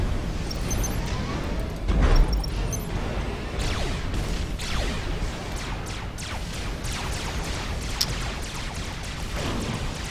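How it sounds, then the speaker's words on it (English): Artillery fire and explosions in a real-time strategy game: a continuous rumbling barrage with repeated booms and sharp crashing impacts, loud and layered throughout with no pauses. "Time to spam artillery."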